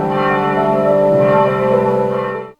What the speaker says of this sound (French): La cloche retentit à cet effet.